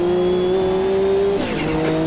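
A race car in Automobilista 2 holds a loud, steady engine whine on a straight, then the pitch drops with a short burst of tire squeal and scrabbling grip before the engine note settles back, no voices.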